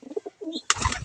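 Pet pigeons give a few short, soft coos close by, followed by a louder burst of rustling and calls at the end.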